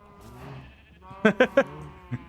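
Minecraft sheep in a game animal farm give three quick, loud bleats in a row and then a fourth a moment later, over a soft background with a voice briefly in the first half.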